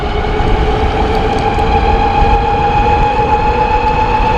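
Wired Warrior 72v electric motorcycle pulling hard under throttle, a steady high motor whine with layered tones over rumbling road and wind noise, loud and continuous, with no talking.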